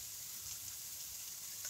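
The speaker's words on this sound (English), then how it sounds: "You can hear them sizzling, I think." Mushrooms and onions sauté in a pan over medium-high heat for a beet bourguignon, giving a quiet, steady sizzle with no talking.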